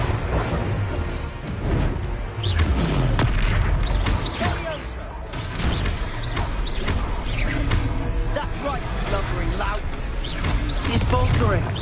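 Spell blasts from Confringo cast in Hogwarts Legacy on PS5, heard as repeated booming, crashing bursts amid dense, continuous combat noise and effects, loud throughout.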